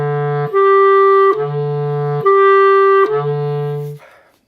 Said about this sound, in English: practice going from A down to low E